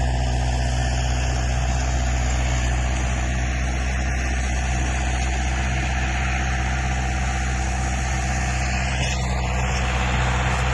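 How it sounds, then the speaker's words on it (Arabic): A tractor working farmland for vegetable planting on a citrus farm in Nubariya, its engine a steady loud rumbling drone throughout with no pauses and no voices. "وده جرار بيستصلح الأرض"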